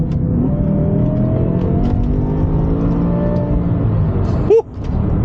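Heard from inside the cabin, a BMW E60 M5's V10 engine pulls hard under acceleration, a loud steady roar whose pitch climbs, then a brief dip as a gear change cuts in near the end before the engine resumes.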